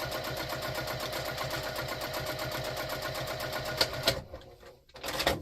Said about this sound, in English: And I am back stitching at the beginning and end of those.